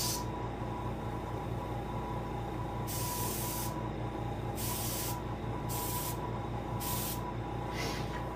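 Airbrush spraying paint onto a largemouth bass for taxidermy, with a constant soft hiss broken by several short, louder bursts of spray, up close and alone.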